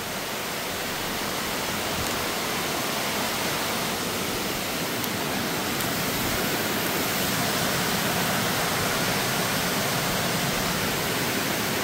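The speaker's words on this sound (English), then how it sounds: "You see the waterfall down?" A steady, dense rush of falling water roars without pause, a broad hiss filling the whole clip with no voices.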